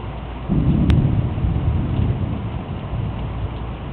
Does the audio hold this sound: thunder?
yes